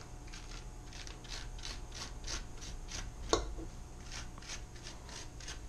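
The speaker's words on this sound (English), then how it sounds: "Just going to scrape out the seeds like a pumpkin." A fork scrapes seeds out of a halved spaghetti squash in a home kitchen, giving steady, rhythmic rasping strokes about twice a second, close and fairly quiet, with one sharper knock partway through.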